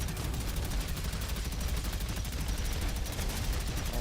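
Rapid gunfire from shooting in the video game Prodeus, a dense continuous stream of quick shots at moderate level with no pauses.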